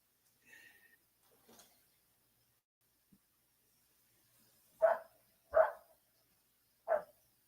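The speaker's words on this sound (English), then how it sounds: "I think that's Honey barking." Three sharp dog barks, fairly close, spaced about a second apart, after a few faint scattered sounds.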